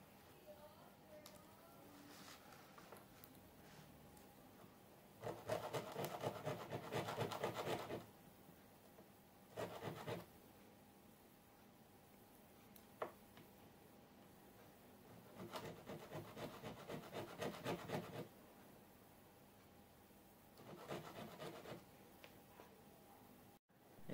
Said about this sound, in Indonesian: langsung aja kita amplas.